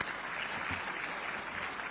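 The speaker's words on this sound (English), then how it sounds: "May we clap for Anton." An audience at a private sector development event bursts into steady, dense applause, clapping continuously with broad even noise and no clear pauses.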